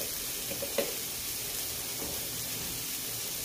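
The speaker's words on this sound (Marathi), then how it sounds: "तर हे टोमॅटो देखील मी परतून घेते" Tomatoes sauté in a kadhai for egg bhurji, giving a soft, steady sizzle with a few light clicks and scrapes of stirring. The sound is faint and close, and nobody speaks.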